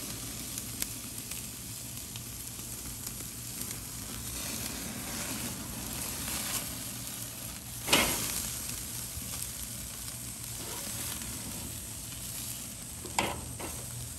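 A sous vide chuck roast sears in a hot pan, giving a steady close sizzle and crackle throughout, with a couple of sharper spatters standing out.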